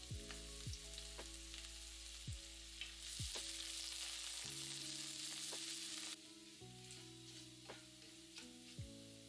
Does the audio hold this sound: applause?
no